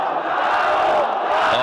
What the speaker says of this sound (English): the ZywOo chants in the crowd